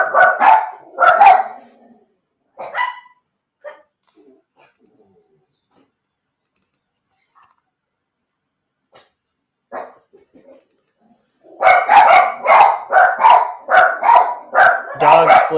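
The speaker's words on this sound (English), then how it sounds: "dogs flipping out." Several dogs barking wildly in loud, rapid bursts, a cluster at the start, a few scattered yips through a quiet middle, then a long dense run of barking at the end.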